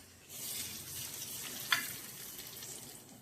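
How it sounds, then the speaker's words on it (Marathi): Hot tempering poured over curd for pumpkin bharit crackles into a soft, steady sizzle with one brief sharp pop midway, quiet and close with no voices. "त्यावर आता ही आपण तयार केलेली फोडणी घालणार आहोत।"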